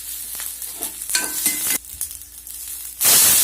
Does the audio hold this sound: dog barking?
no